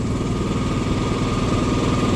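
A truck engine idles while hauling a removable gooseneck glass trailer, a loud, steady low rumble with an even throbbing pulse, close by and continuous without any voices.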